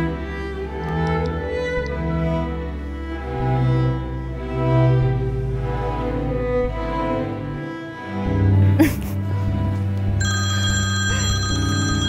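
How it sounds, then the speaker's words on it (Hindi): A telephone rings in an indoor scene from a Pakistani TV drama, giving repeated electronic tones over background music, with louder ringing bursts near the end. "तुम्हारी बीवी तुम्हें फोन कर रही है तो तुम बात क्यों नहीं कर लेते?"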